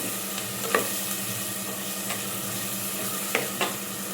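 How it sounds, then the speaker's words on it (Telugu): Chicken curry with sesame-coriander paste being stirred in a clay pot, a soft continuous simmering sizzle with a few light scraping strokes of the spoon. "మనకి అది వేసుకున్నాక మనం కలుపుకోవాలి."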